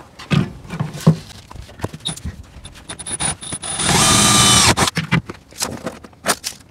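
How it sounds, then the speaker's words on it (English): A power drill bores holes while a Rusty's rear cargo basket is fitted to a Jeep LJ Wrangler, the motor whining loudly in a steady burst of about a second, amid close clanks and knocks of tools and metal. "We're going to drill the first two holes"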